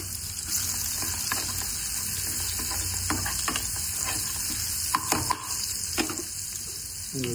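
Onion and tomato fry in a pan with turmeric, giving a steady close sizzle with occasional spoon scrapes and taps against the pan, and no talking.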